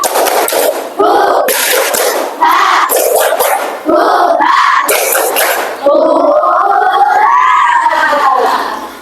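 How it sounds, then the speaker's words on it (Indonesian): A class of students at an Islamic boarding school in Jombang performs a rhythmic spirit clap, loud bursts of clapping mixed with group chanting and shouting, ending in a sustained collective cheer. "Tepuk semangat."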